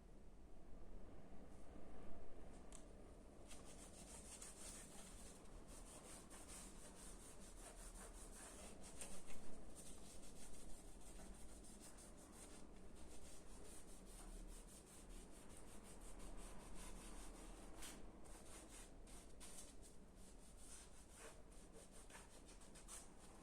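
Wurth rust converter being brushed onto a lightly rusted metal plate, a steady scratchy rubbing of bristles that continues throughout at close range, with a few louder strokes and no talk.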